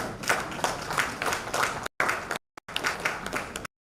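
A crowd applauds, a dense patter of clapping that keeps up for a few seconds with brief dropouts.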